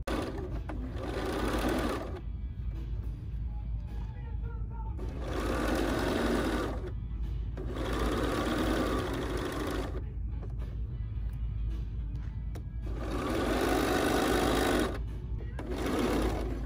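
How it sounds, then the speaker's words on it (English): A sewing machine stitches a blouse in several loud, steady runs of a few seconds each, going forward and then in reverse, with short quiet pauses between runs. "she's going to take a few stitches forward, hold down the quick reverse, and take a few stitches back"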